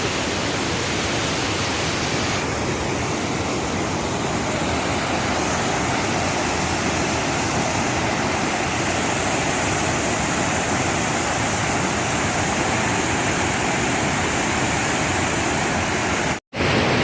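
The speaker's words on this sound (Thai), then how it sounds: "เป็นหน้าผาสวยงามและน้ำตก อันสวยงาม เลยทีเดียว" Steady, loud broadband roar of the Saepong Lai waterfall plunging off a cliff in Attapeu, Laos, continuous throughout with no voices, cutting out only for a brief moment near the end.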